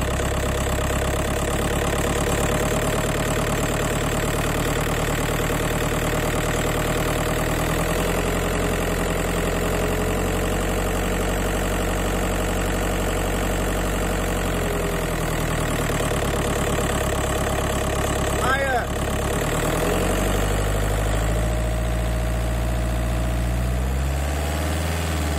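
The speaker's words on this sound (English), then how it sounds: "And starting from a cold engine." A Skoda Fabia engine idling after a cold start, a steady low hum with a faint mechanical tick that settles slightly lower partway through, continuous and close with no voices.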